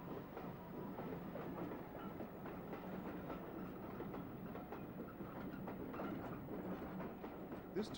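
J-15 steam locomotive hauling a branch passenger train to Birr, heard as a steady, faint rumble with rhythmic clickety-clack of wheels continuing throughout, distant and without talk.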